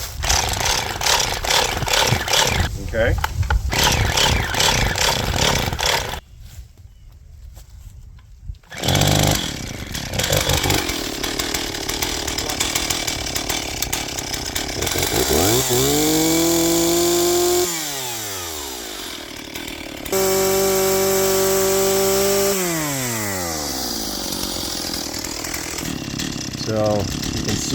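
Stihl 028 AV Wood Boss chainsaw running outdoors in wind, engine droning loudly, briefly cutting out, then revving up and down in sweeping pitch rises and falls, with a short spoken word near the start.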